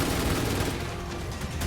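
Gunfire in a Trumbull Valley video game match on lethal difficulty, a dense rapid burst of shots blurring into a continuous rattling fusillade, loud and close, with no talk over it.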